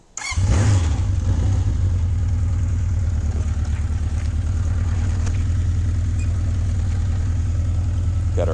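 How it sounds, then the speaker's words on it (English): A 1982 Honda CB750K motorcycle starts up and settles into a steady idle of around 1100 rpm, a loud, close, even rumble that continues alone for several seconds. "Got her idling right around 1100, which is perfect."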